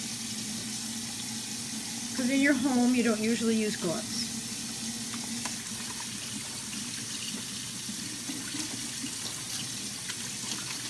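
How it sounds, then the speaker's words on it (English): A kitchen sink tap runs in a steady, hissing stream while hands are washed with soap, and a person speaks briefly over the water partway through. "I'm going to go to the sink and wash my hands with soap and water"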